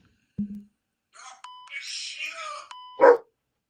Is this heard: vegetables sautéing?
no